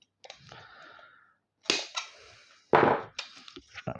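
Sharp snips and cracks of a blade cutting through a PC power supply cable while it is being scrapped, a few separate loud bursts with quieter rustling between them, no talking.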